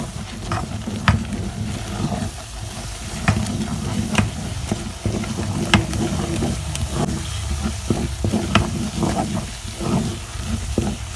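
Banga palm nut soup simmering and being stirred in a pot, a steady low bubbling sizzle with scattered scraping knocks of a spoon, moderately close and continuous, no voices.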